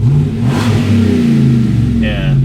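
Tuned 5.3L gas Chevrolet Silverado V8 revving through its exhaust, a loud, close rumble surging and dropping, with voices talking over it.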